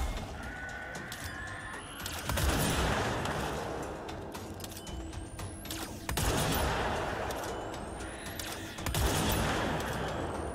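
A weapon in a shooter video game fires in three loud, dense volleys a few seconds apart. Each burst has a sharp crackling attack and a noisy tail, with quieter game sounds between.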